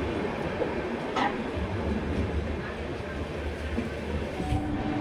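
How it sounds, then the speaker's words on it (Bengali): LHB Kolkata-Radhikapur Express pulling out of Kolkata railway station in the evening, heard from on board as a continuous low rumble and rolling wheel noise with faint knocks, and a voice murmuring under it. "Kolkata Radhikapur express departing from Kolkata railway station"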